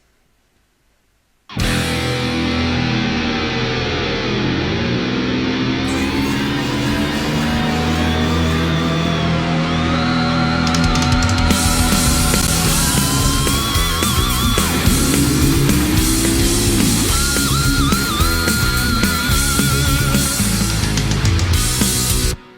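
Synth-driven rock band intro mashup, a layered vamp of sustained synth pads, sweeping tones and steady beat, entering abruptly after a short silence and playing loud and dense throughout, building brighter midway, with no voices.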